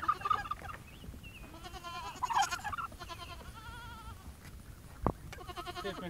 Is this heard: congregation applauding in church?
no